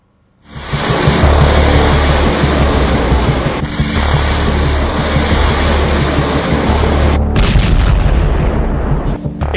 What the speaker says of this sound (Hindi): वहीं इजराइल पर ईरान ने 500 किलो के वॉरहेड वाली मिसाइल की बौछार कर दी है।